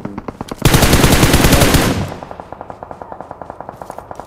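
Automatic weapon fire in a shooter video game: a loud sustained burst of rapid gunfire, then a steady run of sharper, quieter repeated shots ticking off at a regular pace.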